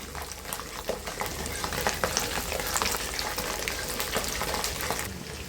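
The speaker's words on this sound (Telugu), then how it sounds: "ఎండుమిరపకాయ జీలకర్ర వేగాక 100 గ్రాములు వెల్లుల్లిపాయలు పొట్టు తీసుకొని ఫ్రై చేసుకోవాలి." Peeled garlic cloves sizzle and crackle steadily in hot oil with dried red chillies and cumin, a close, continuous frying hiss with scattered pops and the occasional scrape of a stirring spoon.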